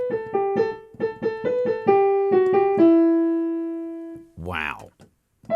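A piano plays a passage from Carol of the Bells as a quick run of repeated and stepping notes that ends on a long sustained tone. A short spoken voice follows at the end.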